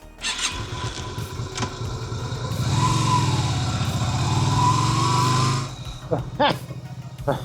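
A motorcycle being ridden, its engine droning steadily and rising in pitch as it revs through the middle, with quieter idling and brief noises before and after.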